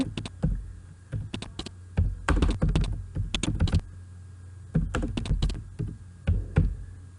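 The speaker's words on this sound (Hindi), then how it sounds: "यहाँ से उसका एड्रेस टाइप करें।" Computer keyboard clattering as an email address is typed, bursts of quick close key taps separated by short pauses, with no talking over it.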